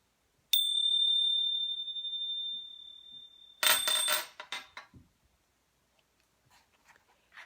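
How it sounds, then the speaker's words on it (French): A small meditation bell rings once with a clear, sustained tone that slowly fades, followed by a burst of brighter tinkling and a few soft jingles before the room falls quiet. "je ferai tinter de nouveau la clochette"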